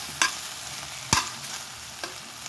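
Pakbet vegetables cook in oil with a faint sizzle in the background, broken by three sharp, separate scrapes or clinks of a utensil against the pan.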